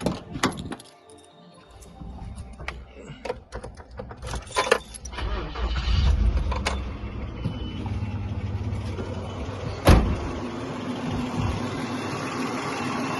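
Keys jangle before a 1995 Nissan Pathfinder engine cranks and starts after a head gasket replacement, then settles into a steady idle close by.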